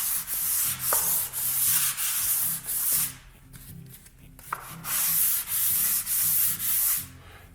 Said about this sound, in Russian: При помощи такой подрезанной терки очень хорошо и быстро формируется внутренний угол